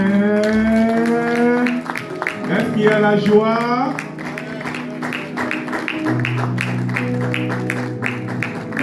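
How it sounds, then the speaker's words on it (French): A church congregation claps in steady rhythm in praise of the Lord, with loud singing or chanting voices over the hands and a short spoken question early on. "Applaudissons le Seigneur."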